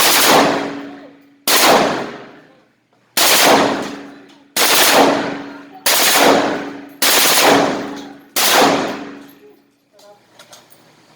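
An old M16 rifle fired at an outdoor range in Angeles City, Philippines: seven loud, evenly spaced single shots, each with a long ringing echo, then quiet with faint movement.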